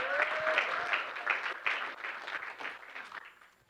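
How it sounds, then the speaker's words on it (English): Audience applause fills a room at the NEXPO Fall 2021 evening event, a dense steady clapping from a crowd that holds for several seconds before fading at the end. "Round of applause for everyone just being here tonight."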